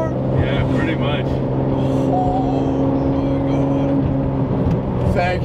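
A straight-piped Ferrari Enzo roars loudly from inside the cabin while riding, a dense sustained engine drone with high whining harmonics and short revving bursts, and people talk over it.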